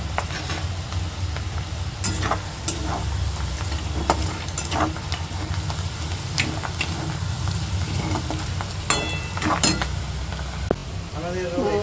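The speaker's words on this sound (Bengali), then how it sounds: "পেঁয়াজগুলো একটু ভাজা ভাজা হয়ে গেলে" Chopped onions frying in a pan for chicken curry, a soft continuous sizzle under clinking and scraping of a utensil against the pan, with occasional sharp metallic taps.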